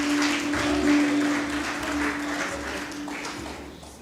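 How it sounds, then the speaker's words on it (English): Audience applause at an investiture ceremony, dense clapping that starts loud and gradually thins and fades over a few seconds, with a faint hum underneath. "Ladies and gentlemen, come on, a bigger round of applause."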